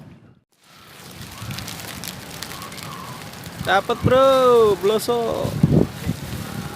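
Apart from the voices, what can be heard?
rain falling while fishing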